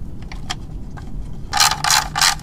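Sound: ratchet tightening bolts on a carbon skid plate

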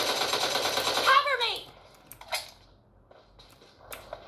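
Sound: gunfire in the video game PUBG Mobile

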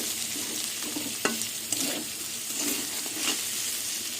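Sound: soybean chunks frying and being stirred in a pan

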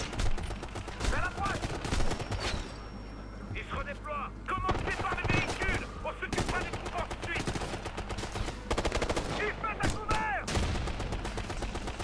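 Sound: assault rifle and machine gun gunfire in Ghost Recon: Future Soldier video game

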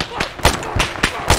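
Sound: gunfire from enemy shooters in the video game Arma 3

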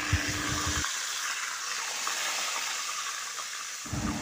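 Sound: fish frying in hot oil in a Teflon pan

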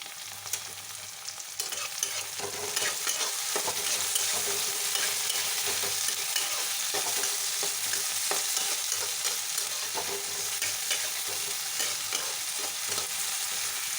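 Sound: tomato and spices frying lightly in a pan

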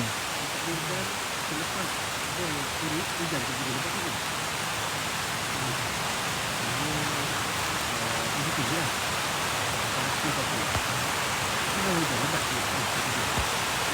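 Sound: heavy rain falling in the forest

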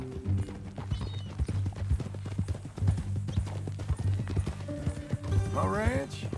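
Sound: horse hooves in video game Red Dead Redemption 2

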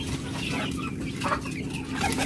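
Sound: chicks and chickens clucking

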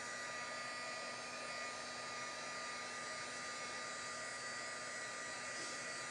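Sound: hair dryer drying paint

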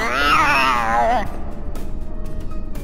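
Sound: cat meowing in Harry Potter PS1 video game

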